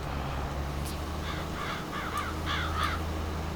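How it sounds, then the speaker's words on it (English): Crows in the Farming Simulator 22 video game caw several times in a row, fairly loud, over a steady low rumble of farm machinery, with no talking. "Yeah, get out of here, crows."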